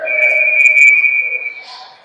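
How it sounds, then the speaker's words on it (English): A referee's whistle at an ice hockey game, one loud sustained blast lasting well over a second before fading, heard alone with faint arena noise after. "Whistle."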